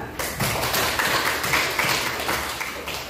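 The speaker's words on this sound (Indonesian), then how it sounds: "Oke, kita tepuk tangan." A classroom group claps hands after a student presentation, a short burst of uneven, fairly soft claps at close range that tapers off toward the end.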